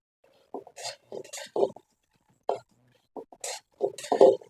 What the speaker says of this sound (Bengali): কড়ার মধ্যে চীনাবাদামগুলো দিয়ে দেব।